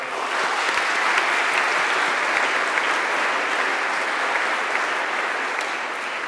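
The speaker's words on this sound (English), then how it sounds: "Let's give them a round of applause." A steady, full round of applause from a seated school chapel congregation for the student council, with many hands clapping evenly throughout and no talk.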